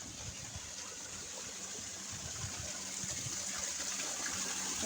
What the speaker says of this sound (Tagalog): Ayan, may falls dito.